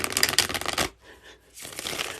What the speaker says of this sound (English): And the final shuffle. The final shuffle.